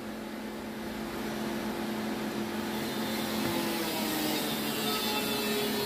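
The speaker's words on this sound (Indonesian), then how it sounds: "Jadi ada suara ini, suara dari kipas." A solar inverter's cooling fan runs under load, rated 5,000 W with dual 120 A MPPT, giving a steady broadband whir with a faint tonal hum. It stays continuous and fairly loud throughout, with no talk over it.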